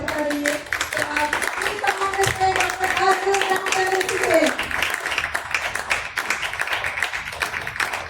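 An audience claps in welcome at a gathering, a dense, steady patter of many hands lasting throughout while a held musical tone sounds underneath early on.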